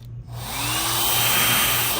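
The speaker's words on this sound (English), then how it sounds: "High-speed motor, so really nice. Low noise too." A Vagary hair dryer with a high-speed motor whirs up from silence into a steady, fairly loud airy blowing hum, rising slightly in pitch as it reaches full speed and running alone.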